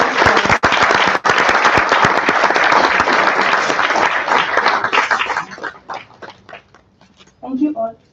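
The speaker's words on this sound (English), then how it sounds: "all please give a big round of applause" A conference audience breaks into loud, dense clapping that holds steady, then thins into scattered individual claps and fades, with a brief voice near the end.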